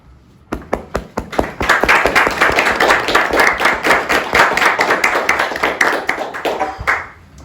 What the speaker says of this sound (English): don't feel obliged to clap after every poem